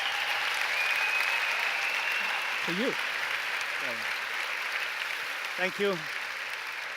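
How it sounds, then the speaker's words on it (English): Steady applause rises from a crowd at an evening talk with artists and fills the whole stretch, with brief spoken thanks heard under it near the end. "Give them a round of applause."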